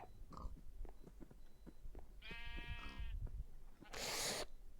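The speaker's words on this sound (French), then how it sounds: "Les 2 moutons." A pair of sheep bleat in a video game: one wavering harmonic bleat in the middle, followed by a loud burst of hissy noise, all over a continuous low background.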